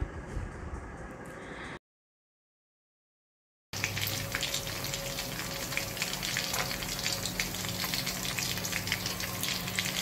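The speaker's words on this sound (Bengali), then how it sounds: "আমাদের এখন মাছটা ভাজা চলছে" Fish fries in hot oil in a pan, giving a close, steady, loud sizzle that cuts out briefly for a gap of silence and then resumes even stronger.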